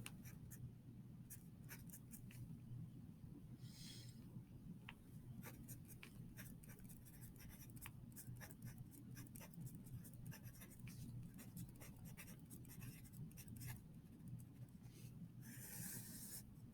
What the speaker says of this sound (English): I'm starting to write a little too big